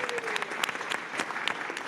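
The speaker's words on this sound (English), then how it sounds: "can we give him a round of applause for that?" Audience applause in a conference room at a Bitcoin industry event, a steady wash of many hands clapping close and fairly loud, with a faint voice briefly underneath.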